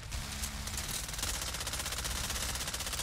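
Rapid ranch rifle gunfire in a shooter game, a dense, loud, continuous burst of shots hammering out for the whole stretch with no talk over it.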